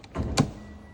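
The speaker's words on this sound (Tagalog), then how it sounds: "Power windows." Power window motor in a 2011 car whirs briefly, a short rising hum followed by a soft thump as the glass stops, close by and alone.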